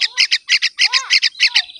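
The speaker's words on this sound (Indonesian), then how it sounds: "Ini anak burung tunjukkan" A baby bird squawks insistently up close, a rapid run of harsh, loud begging calls in quick bursts with no pauses longer than a beat.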